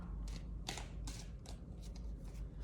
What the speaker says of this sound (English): let's give the tarot a little shuffle here